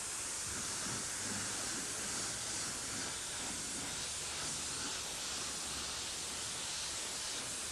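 Steady airbrush hiss as purple paint goes onto a custom motorcycle helmet in light coats, a continuous broadband spray that runs unbroken and fairly close throughout, with no talking.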